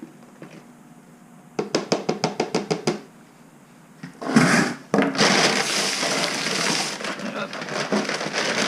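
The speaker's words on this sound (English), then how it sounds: "now we get to mix up the plaster" Plaster and play sand being mixed for a lost-wax casting mold: a quick run of sharp rhythmic scraping taps, then a louder sustained gritty churning and sloshing that carries on to the end, close up and with no talking.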